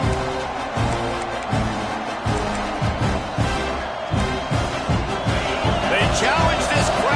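Football stadium crowd at Clemson: a loud, sustained roar of many voices fills the space, with rhythmic thumping and chanting pulses beneath and a commentator talking over it.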